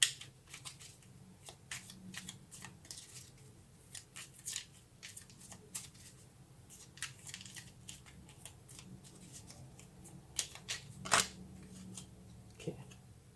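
Tarot cards are handled and drawn from a deck, giving soft, close shuffling with scattered light snaps and flicks that peak in a sharper burst near the end.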